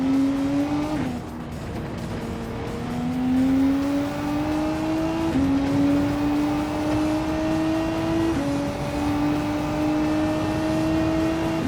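A Gran Turismo 7 race car engine drones loudly and steadily, rising in pitch through each gear, then dropping sharply at every upshift as it accelerates.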